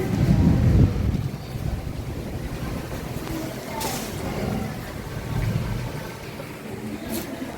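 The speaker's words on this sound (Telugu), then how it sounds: "గాలే ఉత్త గాలే నో వానా ఇంకా" Strong wind buffets the microphone outdoors in a village, a broad low rumble with gusts that swell at the start and again midway, steady throughout with no rain.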